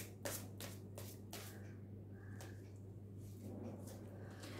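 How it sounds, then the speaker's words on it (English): Tarot cards from a Fortune deck shuffled by hand, a run of close, crisp riffling bursts in the first second and a half, then softer slides and flicks as cards are drawn, over a steady low hum. "Let me draw you some cards from the Fortune deck"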